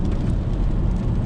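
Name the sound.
rain drops hitting a car's sunroof glass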